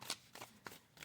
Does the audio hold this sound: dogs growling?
no